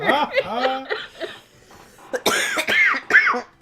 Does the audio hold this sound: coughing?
yes